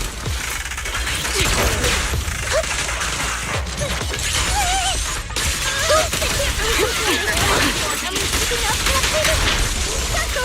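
Rapid homing missile barrage in the action game Zenless Zone Zero, a dense run of mechanical launches and crackling bursts for about ten seconds, loud and continuous, with game sounds layered over it.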